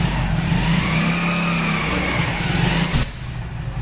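A motorbike ridden toward town after dark, its engine droning steadily with a rising, wavering tone, then easing off near the end.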